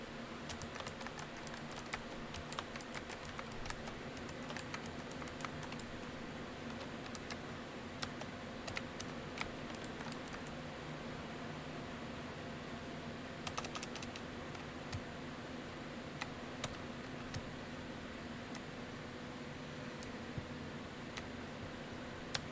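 Someone types on a computer keyboard in quick, irregular bursts of sharp clicks, with pauses between runs, close and fairly quiet over a faint steady hum.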